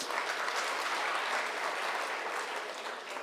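A large audience at a closing ceremony applauds, with dense, steady clapping that holds at an even level the whole way through and no voices over it.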